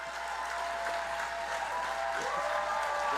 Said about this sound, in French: Je pense qu'on peut donner une bonne main d'applaudissement à Louison et Marisol